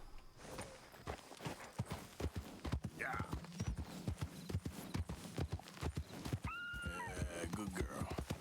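In Red Dead Redemption 2, a horse's hooves clip-clop in a steady walking rhythm, with a couple of whinnies and voices talking over them.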